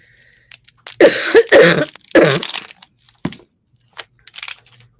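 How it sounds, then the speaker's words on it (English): A few harsh coughs in quick succession, close up, followed by a couple of softer throat sounds; no talking. "the cough I've got at the moment"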